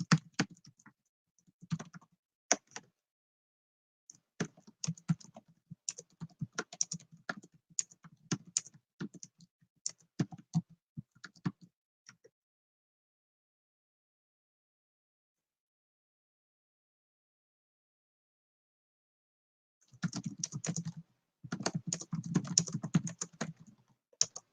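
Someone types on a computer keyboard in quick, irregular bursts of close, crisp key clicks, going quiet for several seconds before a final flurry of typing.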